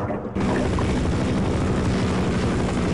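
Helicopter rotor drone from the video game Half-Life, starting abruptly after a brief lead-in, then a steady loud whirring roar with a low rhythmic chop that holds throughout.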